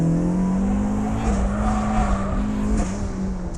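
A Flyin' Miata turbocharged Mazda Miata on a hot lap holds a loud, steady engine drone close to the microphone, with faint tire squeal underneath and a brief shift in pitch partway through.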